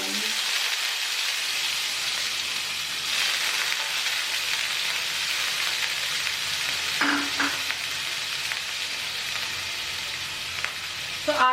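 Soaked urad dal frying in hot oil with mustard seeds on a gas stove turned to low, a steady close sizzle running throughout with a few brief crackles and stirring scrapes near the end.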